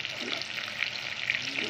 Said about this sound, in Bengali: মাছগুলো ভাজা হয়ে গেছে, ভাজা হয়নি